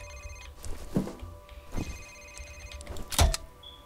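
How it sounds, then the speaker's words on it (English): A cell phone rings somewhere in a level of the video game F.E.A.R., a repeating electronic ring mixed with scattered game noises and thumps, moderately loud with no talk over it. "Where's that ringing coming from?"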